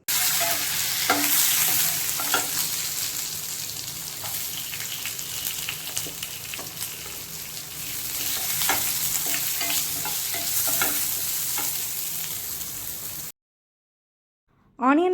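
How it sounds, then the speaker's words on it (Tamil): Onion sizzles and crackles in hot oil with occasional stirring scrapes, steady and close, ending abruptly in silence before a brief noise. "இதை ஒரு தடவை எண்ணெயில் வதக்குங்க."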